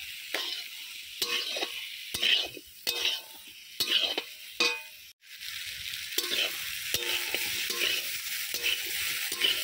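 Spices with turmeric and a little red chilli powder stir-fry in a pan for ridge gourd posto: a spatula scrapes in sharp rhythmic strokes over a constant sizzle, then gives way to steady frying.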